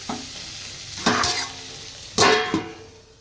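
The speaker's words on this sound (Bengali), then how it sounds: "রান্নাঘরে এসে এখানে আমাদের জন্য ওই কাঁচা লঙ্কা কালো জিরে টমেটো দিয়ে আলু ফুলকপির তরকারিটা বসিয়ে দিয়েছি" Potato and cauliflower curry with green chilli, black cumin and tomato sizzles in a pan, with two distinct bursts of stirring and scraping that rise over a soft, steady frying hiss.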